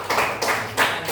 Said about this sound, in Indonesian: Kita kasih tepuk tangan untuk kelompok 3.